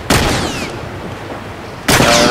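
Two loud, booming gunshots from The Last of Us Remastered on PS4 land about two seconds apart. Each blast is followed by a long, echoing rumble that fills the gap between them.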